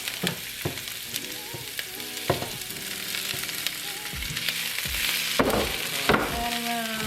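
Onion and green peppers hit a hot pan and fry with a loud, continuous close sizzle, broken by clattering stirs and scrapes of a utensil, with no talking.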